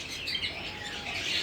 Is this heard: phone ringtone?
no